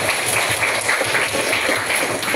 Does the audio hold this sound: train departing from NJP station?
no